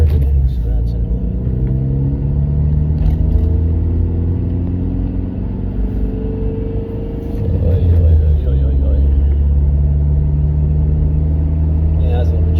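A car engine running with a steady low rumble that dips and surges unevenly, sputtering slightly, heard close up under a voice.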